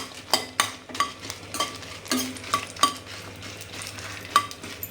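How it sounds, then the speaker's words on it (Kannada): Chillies frying in a spoonful of oil in a pan, a close, steady sizzle broken by repeated sharp scrapes and clinks of a spoon stirring against the metal. "ಈಗ ನಾನು ಮೆಣಸೆಲ್ಲ ಫ್ರೈ ಮಾಡ್ತೆ ಸ್ಟಾರ್ಟಿಂಗ್ ಎಣ್ಣೆ ಹಾಕಿದ್ರಾ ಹಾ ಎಣ್ಣೆ ಹಾಕಿ ಒಂದು ಸ್ಪೂನ್ ಎಣ್ಣೆ ಅದಕ್ಕೆ ಮೆಣಸು"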